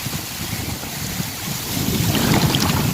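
Strong cold wind buffets the microphone in a continuous roar, growing louder toward the end, with rushing floodwater beneath it near a weir.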